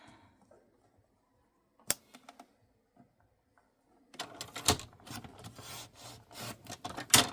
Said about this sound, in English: I will, real quick, with my trimmer, just trim this down